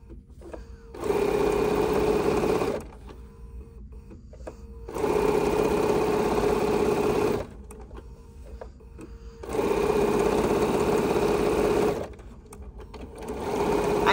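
Sewing machine stitching fabric strips in three long bursts of a few seconds each, a close, loud, steady motor whir with a fast needle chatter, separated by short quiet pauses with light handling noise.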